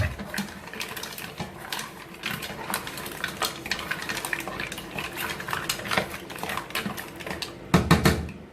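Paella rice being stirred in a pan, with a utensil scraping and clinking against the metal in quick, irregular strokes, close and clear, ending with a couple of louder knocks.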